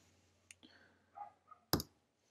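A computer mouse button gives one sharp, close click, preceded by a fainter tick, against quiet room noise with a soft background hum.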